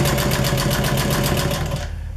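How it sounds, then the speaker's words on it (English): Sewing machine top stitching upholstery fabric, running at a loud, steady, rapid mechanical chatter close by for about two seconds before easing off at the end. "So we'll go ahead and start your top stitch like you normally would."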